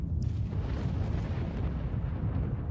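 Distant gunfire in the video game S.T.A.L.K.E.R. Call of Pripyat, a faint, muffled low rumble of dull bursts rolling in the background.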